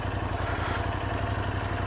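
A 2019 Royal Enfield Interceptor 650 engine idles steadily in neutral, a close, continuous low mechanical thrum with an even pulsing rhythm and no talk over it.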